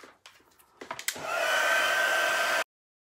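A heat gun is used to heat set a craft piece. A few soft clicks and handling knocks come first, then it blows a steady loud whooshing hiss for over a second before cutting off abruptly.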